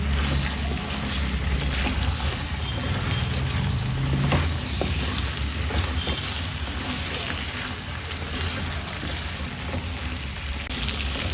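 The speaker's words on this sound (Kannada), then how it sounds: "ಸ್ವಲ್ಪ ಮಿಕ್ಸ್ ಮಾಡ್ತಾ ಬದನೆಕಾಯಿನ ಫ್ರೈ ಮಾಡ್ಕೊಳ್ಬೇಕು" Brinjal pieces fry in ghee in a pan, giving a loud, continuous close-up sizzle with occasional stirring scrapes throughout and no voices.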